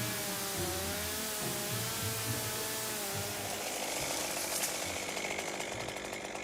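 A chainsaw felling a tall holly tree of nearly thirty feet in a French orchard, its engine droning steadily and loud throughout, pitch wavering as the chain bites and revs through the trunk.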